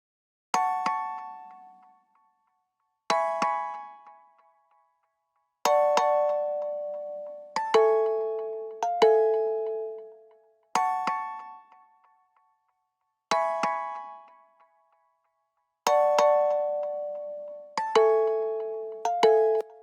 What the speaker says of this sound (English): I loaded a preset from Nexus called African Kalimba 2, and I put off the reverb